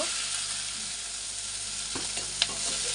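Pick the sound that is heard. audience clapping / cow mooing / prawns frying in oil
prawns frying in oil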